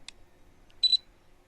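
A drone camera's shutter fires during a foggy outdoor flight, a brief faint click followed by a short, sharper two-part electronic snap, close and isolated in near silence.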